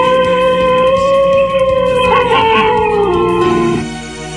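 A wolf howl, or a dog imitating one, on a live Amazonas radio broadcast: a long, loud sustained howl with a slowly falling, wavering pitch over several seconds, ending in a brief yip, with no talk over it.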